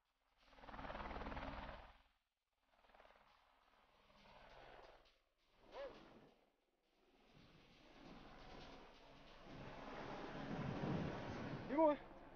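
A helicopter, brought by gendarmes in French Guiana, comes and goes in bursts of rotor and engine noise at moderate distance, swelling into a sustained, louder roar toward the end with faint voices around it.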